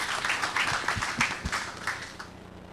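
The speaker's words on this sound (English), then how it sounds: "So if you give them a round of applause, please" Conference audience at a subsea telecom industry panel gives a modest round of applause for the panelists, with a few distinct, louder nearby claps standing out over a scattered, thinning patter.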